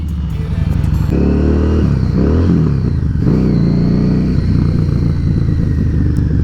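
Harley-Davidson Street 750 motorcycle fitted with a Vance & Hines exhaust rumbles loudly close by, with a deep, steady engine note that rises and dips through throttle blips.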